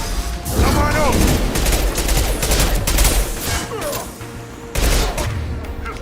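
Pistol fire in the Mass Effect 2 shooter, with rapid bursts of shots rattling through most of the stretch. A brief lull comes before a final loud burst, and voices talk over the combat.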